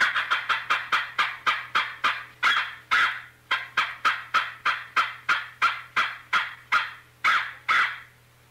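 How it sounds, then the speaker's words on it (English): A 4-in-1 Nightingale squirrel call is played in a fast run of sharp, loud barking chirps, evenly spaced with a few brief pauses, over a faint steady hum. "The sounds you have just heard were made by a 4-in-1 Nightingale squirrel call."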